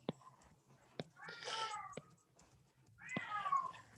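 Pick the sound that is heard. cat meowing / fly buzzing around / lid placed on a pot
cat meowing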